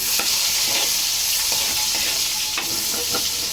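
Shrimp paste and garlic frying in a hot pan, with steady close sizzling and a few stirring scrapes, loud and continuous with no talk.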